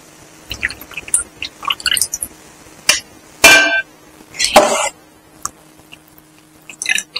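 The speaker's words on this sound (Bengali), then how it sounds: "এই জলে এবার আমি যে ভিজিয়ে রাখা চালটা আমি ছেড়ে দেব।" Soaked rice, a kilo in all, tipped in handfuls into a pot of hot water, with wet clattering pours and splashes in short bursts and quiet gaps between.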